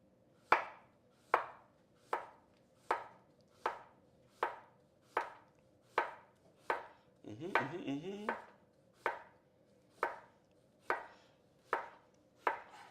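Food is sliced on a mandolin slicer or cut by hand, giving a steady run of crisp, evenly spaced chopping strokes, close and clear, with a brief clattering pause midway and no talk.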